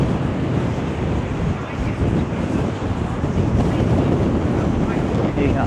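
High wind and rough sea along Blackpool promenade: a loud, constant roar of wind buffeting the microphone over the rumbling wash of waves, with no break throughout.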